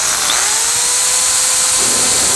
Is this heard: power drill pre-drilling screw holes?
yes